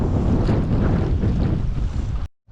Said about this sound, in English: The wind is making it nearly impossible to cast.